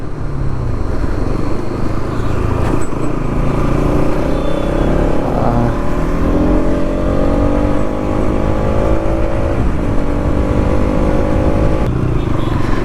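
A Bajaj Pulsar NS200 motorcycle runs at high speed during a top-speed test, its engine note rising steadily under loud, constant wind roar.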